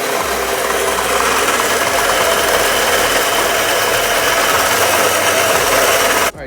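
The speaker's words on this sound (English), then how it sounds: "I'm gonna give it this little cut right" Power tool cutting a metal pipe at home for turbo intake pie cuts on a Honda Integra, a loud continuous grinding, rasping drone held steadily close up, cutting off abruptly at the end.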